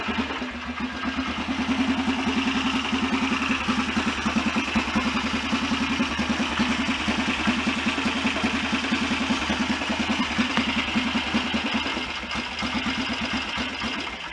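A BSA DBD34 Gold Star 500 scrambler motorcycle engine idles steadily with a rapid, even thumping beat and mechanical clatter, close and loud, running continuously without voices.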